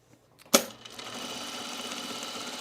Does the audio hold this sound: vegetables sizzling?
no